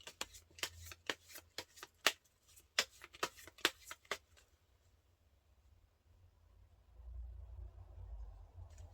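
Tarot cards are shuffled and drawn by hand, giving a quick run of crisp, close snaps and riffles over about four seconds, then a soft low rumble with no talking.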